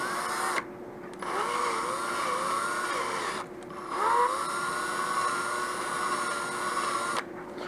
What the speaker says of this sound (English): take the drill, make it a little bit larger.